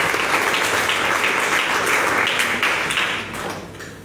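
Congregation at a prophecy service applauding Jesus Christ: dense, sustained clapping from a crowd, steady and fairly loud, easing slightly toward the end.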